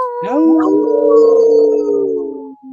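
A person imitating a wolf howl with their voice, one long sustained howl rising then holding steady before trailing off, loud and close.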